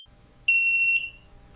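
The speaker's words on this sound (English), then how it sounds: "Sounder bases add local alarms directly beneath detectors." Fire alarm sounder base beneath a detector gives one loud, steady electronic tone lasting about half a second, clean and close, with no voices.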